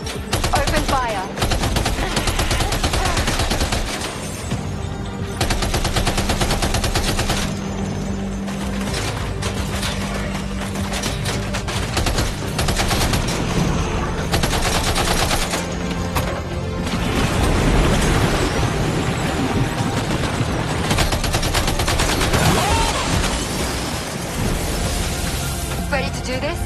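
Rapid bursts of video game gunfire from Death Stranding 2 rattle almost continuously, with booms and mechanical clatter, loud and dense throughout while a voice talks over the shooting.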